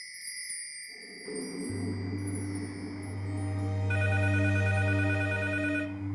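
A telephone rings with a steady, repeating bell tone over a low, droning musical background. No one speaks.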